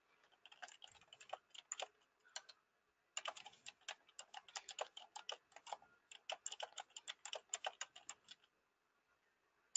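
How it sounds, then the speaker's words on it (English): Someone types on a computer keyboard in quiet bursts of rapid key clicks separated by short pauses, faint and close, with no talking. "to type into the notes area, I just put my cursor right into the cell that I want to type into"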